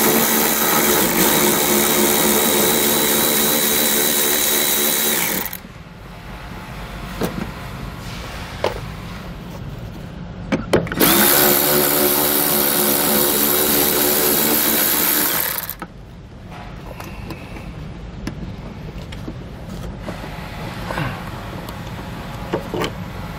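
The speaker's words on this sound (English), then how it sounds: "We'll take a 5 16 inch socket. Take out the two bolts." A power tool with a 5/16 inch socket whirs loudly and steadily while removing bolts from a 2015 Chevrolet truck cab. It runs in three long bursts, with quieter gaps and a few clunks between them.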